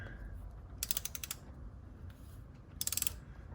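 Ratchet fitted with a flathead bit turning the oil drain plug on a 2020 Audi Q3, two short bursts of rapid clicking separated by quiet low background rumble, close but fairly soft.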